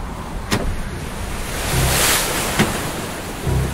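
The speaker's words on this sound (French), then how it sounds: "La mer s'agite." Rough, stormy sea waves around a six-oared rowing boat far offshore as the wind rises, in an audio drama: a steady, loud wash of surf swelling and falling, with a few sharp splashes and gusts of wind.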